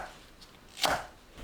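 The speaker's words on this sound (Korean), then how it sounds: "양파를 1cm 간격으로 썰어주세요" A single knife stroke slices through onion on a cutting board, one short crisp chop heard close in an otherwise quiet kitchen.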